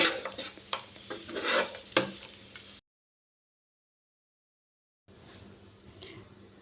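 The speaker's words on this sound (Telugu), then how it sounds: "ఇదంతా కూడా కలిసేలాగా నీట్గా కలుపుకుందాం" Chicken being stirred with chilli powder in a pan, a scraping, sizzling mix for about three seconds, then silence, then fainter frying sizzle resumes near the end.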